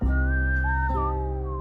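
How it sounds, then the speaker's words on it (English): A clear, sustained whistled melody rises and falls over steady low musical tones, bright and close. "I love a little whistle."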